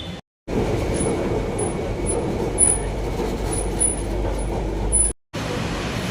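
A metro train arriving at a station rumbles steadily with a low roar and faint high squeals of wheels, continuous and fairly loud, broken by two brief silent gaps, in Kochi.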